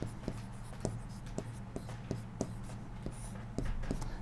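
Chalk or marker taps and strokes against a classroom board while a math solution on integers is written out, a regular series of sharp close ticks with scratchy strokes between them and no talk.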